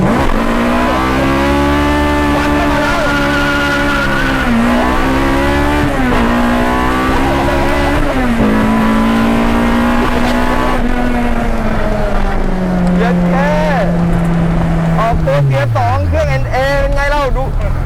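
Car engine revving hard in second gear with the exhaust cutout open, a loud sustained drone rising and falling in pitch, heard from inside the car with voices over it.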